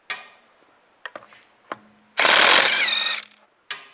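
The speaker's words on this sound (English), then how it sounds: "Take these lug studs out." Lug bolts being removed with a 17 mm socket from the rear wheel of a 2004-2010 BMW X3, a few sharp metallic clicks and knocks, then a loud two-second power tool burst and a final clack.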